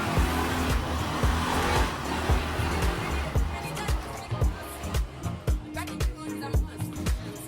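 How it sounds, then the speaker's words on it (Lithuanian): A rented 105cc motor scooter ridden on a trip in Morocco, its engine humming steadily with wind rush and passing traffic noise, while people talk over the ride. "įsinuomavom motorolerį 105 kubų. Lekia puikiai"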